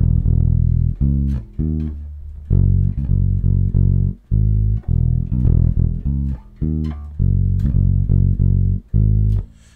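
Electric bass plays the chorus of "Make a Difference" in a loud, steady run of plucked notes with short breaks between phrases, heard alone with no voice.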